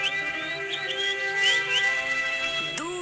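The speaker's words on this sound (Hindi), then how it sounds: "दूर से आती है चिड़िया की आवाज" Thin high chirps and whistled notes flutter over a steady background, with a few clear rising tones; no talking.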